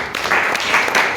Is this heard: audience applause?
yes